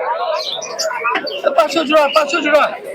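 Pigeons coo and flutter in a busy crowd of birds at a bird market in Beldanga, with voices talking nearby throughout.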